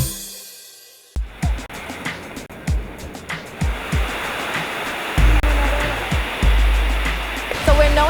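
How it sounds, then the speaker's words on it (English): Ocean waves break on a beach in a steady broadband wash, with a series of soft thuds and surges building louder toward the end. "still by the beach"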